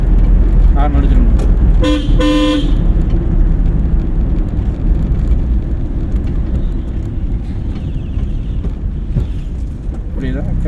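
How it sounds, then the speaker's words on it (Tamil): A car horn gives a short double toot near the start during a driving lesson, loud and close over steady engine and road noise inside the car. "ஹார்ன் அடிச்சிடணும்."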